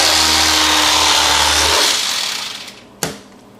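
An electric knife buzzes loud and steady through croaker fish fillets, then winds down and stops, followed by a single sharp knock near the end.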